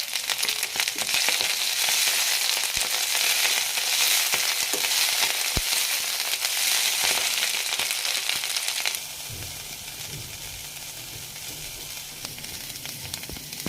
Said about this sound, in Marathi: भाजी तेलामध्ये परतून व्यवस्थित शिजवून घ्यायची आहे.